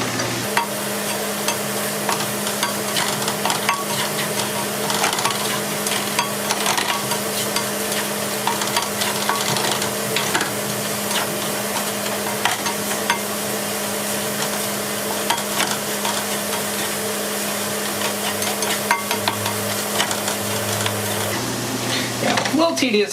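Flour is stirred into mushroom gravy in a pan, with a constant close sizzle and a steady hum beneath continuous scraping and stirring.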